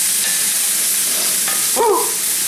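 Spicy Chinese hatch pepper pork with bok choy stir-fries in a hot pan, producing a loud, constant hissing sizzle that swells briefly as the food is tossed, with a faint squeak partway through.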